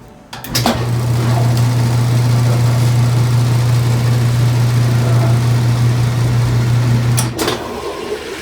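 A Whirlpool washing machine in spin mode after a motor coupler repair gives a loud, steady droning hum that holds constant for several seconds, bracketed by brief clicks or knocks at the start and end.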